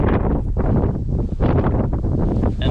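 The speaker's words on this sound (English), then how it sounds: "apologize for the wind" Wind buffeting a microphone outdoors on a water trapline, a loud continuous roaring rumble with gusting swells that fills the whole clip.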